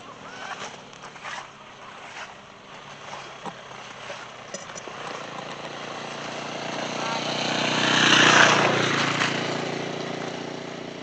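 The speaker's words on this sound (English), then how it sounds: "here comes the motorbike" A motorbike on a muddy track approaches from a distance, its engine drone rising to a loud peak as it passes close by and then fading away, with scattered background sounds beforehand.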